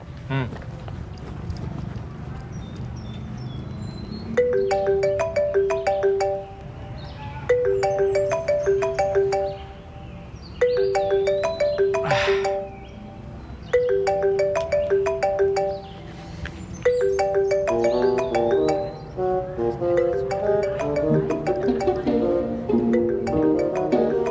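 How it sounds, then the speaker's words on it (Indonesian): A mobile phone ringtone announcing an incoming call plays a repeating melodic phrase in several bursts with short gaps between them, loud and close, growing busier toward the end. "Dia nelfon lu, cuy. Telepon gue, deng."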